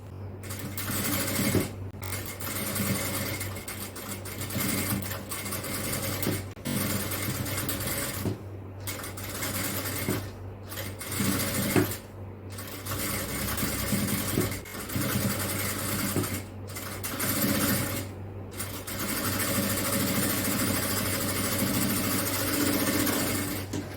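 A sewing machine runs in long stretches while stitching the edge of a designer inskirt, its steady whirring motor broken by several short pauses between runs.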